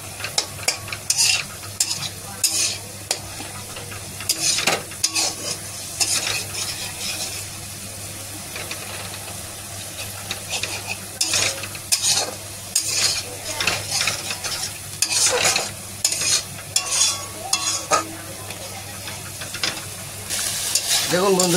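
Chopped onion sizzles in a hot pan while a spoon scrapes and stirs it in repeated bursts, close and loud over a steady hum, in a home kitchen in Kolkata.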